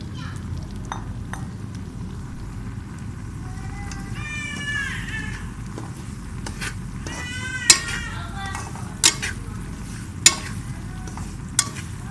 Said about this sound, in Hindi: घी हमारा हो चुका है गरम। अब हम इसमें डालेंगे सूजी।